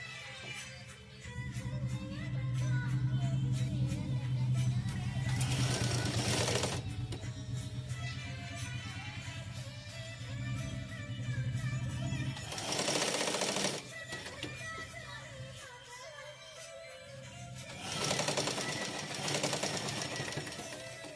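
A sewing machine stitches fabric for a simple sleeve at the shoulder seam, running in long loud rattling bursts with brief pauses and speed changes, close by with no talking.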